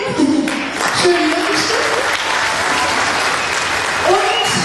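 Sustained audience applause for two make-up artists at an ORGA.TV broadcast, dense and steady clapping filling the whole stretch with a few brief cheer-like tones rising above it.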